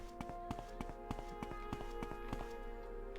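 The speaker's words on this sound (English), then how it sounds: "I hear footsteps." Footsteps in The Elder Scrolls III: Morrowind, a steady run of quiet, evenly spaced taps over faint background ambience.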